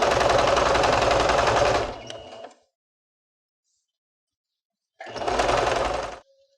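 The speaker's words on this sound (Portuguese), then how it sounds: "Eu vou fazer aqui uma costurinha na pontinha dela." A sewing machine stitches a small seam at the tip of a fabric piece, running in a fast, loud, close burst for about two seconds, then stopping before a second shorter burst after a pause.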